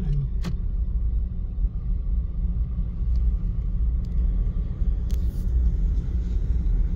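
Cars drive through a flooded street in Abu Dhabi, heard as a close, continuous heavy engine and road rumble with a few faint clicks above it.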